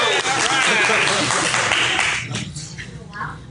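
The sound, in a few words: audience clapping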